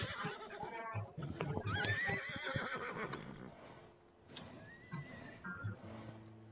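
Horse neighing with a rising whinny amid clip-clopping hooves in a Wild West video game, the neigh loud and close, hoof beats and game effects continuing underneath, with people talking over it.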